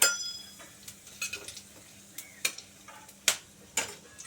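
Panch phoron and a pinch of asafoetida crackle in hot oil, with a soft sizzle underneath and intermittent sharp ticks and clinks from a spoon in the pan, close and fairly quiet.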